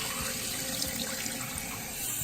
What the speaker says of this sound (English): And once you turn the water on, the water is gonna flow into the tank.